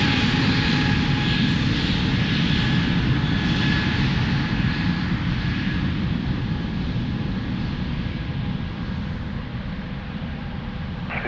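An airliner takes off from runway 02 at Lisbon Airport, a loud, steady engine roar with a whining tone that holds for several seconds before slowly fading as the aircraft climbs away.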